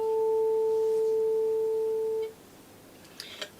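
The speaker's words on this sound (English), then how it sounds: "442 hertz means this is vibrating" A pure 442 hertz sine tone holds steady and clean for about two seconds, then cuts off, leaving quiet room noise and a couple of faint small clicks.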